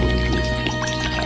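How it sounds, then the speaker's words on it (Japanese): Water, 500 ml, poured into a pot outdoors before boiling it for ramen; a short, steady liquid pour with a rising fill tone, close and alone. "水を 500ml 入れます。"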